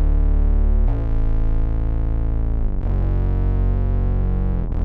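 Heavily distorted bass guitar notes drone and sustain through a distortion plugin, shifting pitch a few times as the tracking jumps, with a thick buzzing harmonic tone and no voices.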